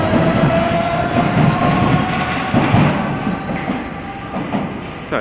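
A Paris Métro line 12 MF67 train rumbles past close by, a steady loud roar of wheels on rail with a faint sustained whine and a few clanking rail-joint beats.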